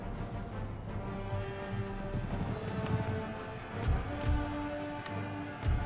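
Horses gallop across the field in Empire Total War, a continuous, busy clatter of hooves in an irregular rhythm, swelling louder in places amid battle noise.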